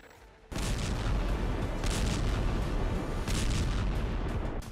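Heavy fighting in northern Gaza between Hamas fighters and Israeli forces, with a sudden loud burst of gunfire and blasts, then repeated sharp cracks and booms echoing over a dense, continuous roar.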